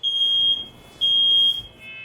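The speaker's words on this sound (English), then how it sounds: "The smoke alarm's going off." A high, piercing electronic alarm beeps in two long tones with a short gap between them, loud and close, with no talking.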